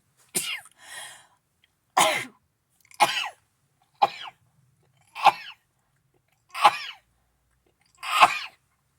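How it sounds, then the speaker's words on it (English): A series of seven sharp sneezes, evenly spaced about a second apart, each a loud burst separated by silence. "There's always multiple sneezes."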